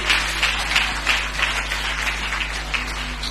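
A church congregation applauding, with rhythmic group clapping that pulses steadily and fairly loudly throughout, over a low steady hum.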